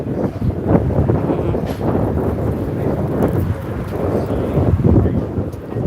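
Gusty wind buffets the microphone outdoors, a steady low rumble with rising and falling bursts throughout.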